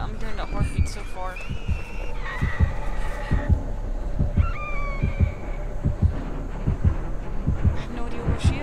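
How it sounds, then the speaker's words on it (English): In the Dead by Daylight horror game, a heartbeat warns that the Nurse killer is nearby. It pounds in steady low double thumps throughout, mixed with faint whining tones and background game hum. "I'm hearing that heartbeat so far."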